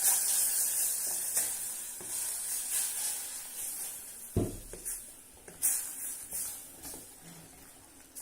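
Flour is stirred into boiling butter and water in a pot for choux pastry, giving a soft continuous sizzle and hiss with scraping stirring strokes and a few sharper knocks against the pan.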